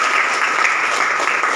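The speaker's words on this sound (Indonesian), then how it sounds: "Iya, tepuk tangan." A classroom of students applauding together in a steady, dense, loud burst of clapping that runs unbroken for under two seconds.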